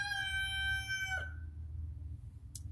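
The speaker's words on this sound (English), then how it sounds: "was our chicken, our rooster." Rooster crowing once, a loud, close harmonic call lasting about a second, followed by quiet background and a brief faint sound near the end.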